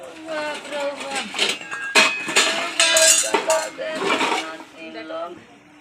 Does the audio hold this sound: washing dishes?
yes